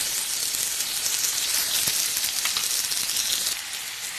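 Steady, bright sizzling as tomatoes hit a hot pan of browned spicy oats mixture, a continuous hiss with small crackles and pops, fairly quiet and alone without talking.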